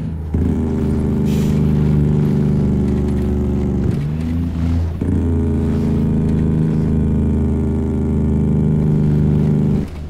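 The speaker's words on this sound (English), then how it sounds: "Wow, oh wow, that is a fantastic Jake brake" Cummins NTC Big Cam engine Jake brake on a truck in American Truck Simulator, a loud, steady rattling engine-brake drone with strong low harmonics, briefly dipping and shifting pitch midway before resuming just as loud.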